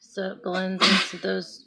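A single sharp sneeze bursts out in the middle of talk during a makeup tutorial, with speech continuing before and after it.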